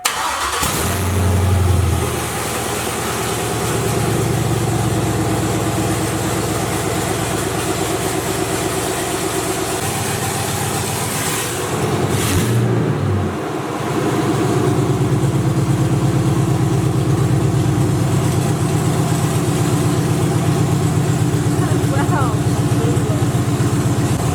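A truck engine fitted with long tube headers cranks and fires, then settles into a loud, deep, rumbling idle that holds steady for a long stretch.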